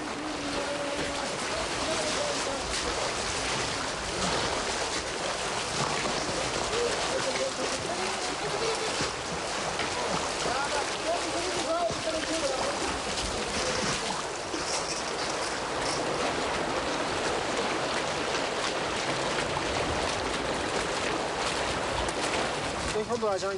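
River water rushing steadily beside a boat on a cold Himalayan river trip, a constant broadband wash close by, with faint voices at times beneath it.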